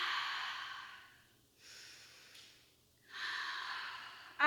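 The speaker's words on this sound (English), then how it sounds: "2 more big breaths." Deep breaths during a yoga posture session: two long, soft airy exhales separated by quiet pauses, close and fairly faint, with a sharper breath at the very end and no talking.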